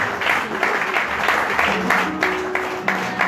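Church congregation at a French-language Sunday worship service applauding the Lord, a sustained roomful of clapping with cheers and voices mixed in, loud and continuous throughout.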